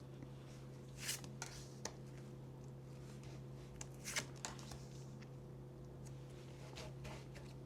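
Tarot cards are shuffled and drawn close by, giving soft, continuous rustling with a few brief sharper flicks and snaps over a low steady hum, with no talking.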